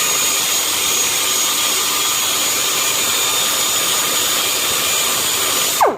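Angle grinder shaving the housing of a Mazda 13b rotary engine, a loud steady high-pitched whine that holds for several seconds, then winds down sharply at the end.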